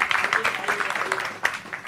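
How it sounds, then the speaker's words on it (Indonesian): Congregation applause at a church service for women and youth, a continuous even patter of many hands clapping at moderate volume, with a slightly stronger burst near the end. "Tepuk tangan dulu buat semuanya dong untuk kemuliaan Tuhan."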